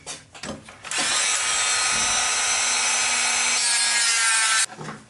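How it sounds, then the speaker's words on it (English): A power tool grinds steadily through an aluminum tube to cut a rectangular flap, a loud continuous rasping whine lasting several seconds before stopping abruptly. "you need to cut the rectangular in your aluminum tube, but leave one side"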